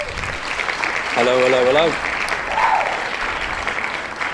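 A small live audience applauds throughout, steady and moderately close, as a co-host is welcomed onto a live talk show; a voice speaks a greeting over the clapping midway.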